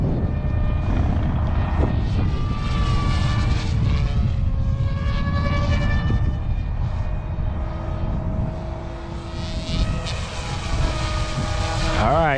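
A full carbon fiber mini RC helicopter at high head speed gives a continuous loud, whining rotor drone with shifting pitch as it passes, steady throughout.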